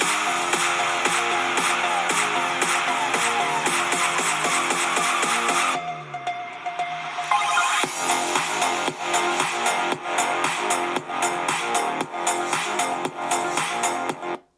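Samsung Galaxy Book4 Pro 14-inch laptop with AKG four-speaker system plays music at 80% volume, loud and full, with a brief softer break midway before the beat returns and runs to a sudden stop.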